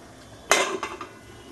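A sharp metallic clank of a lid set onto a cooking pot, followed by two softer rattles as it settles.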